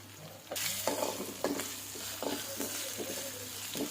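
Ginger garlic paste with turmeric and chili is stir-fried in a pan, a loud sizzle that jumps up sharply after a quiet start, broken by rhythmic scraping strokes of the spoon every half second or so.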